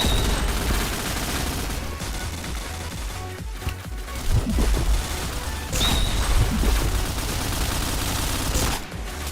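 Rapid gunfire bursts from the online shooter game Point Blank, dense overlapping shots and crashing impacts running continuously at steady loudness with a few sharper spikes, no voices.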